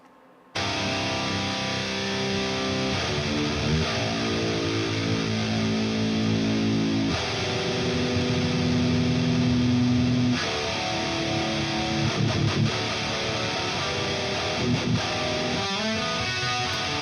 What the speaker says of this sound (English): we're gonna move on to the final guitar tone, which is of course the Djenty rhythm tone